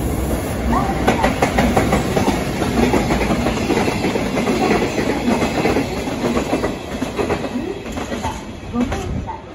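A six-car Haruka limited express bound for Kyoto pulls out of a station platform, wheels clattering in a steady clickety-clack close by, while a public-address announcement plays over the rail noise.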